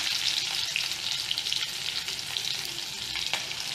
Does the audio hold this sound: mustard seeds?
yes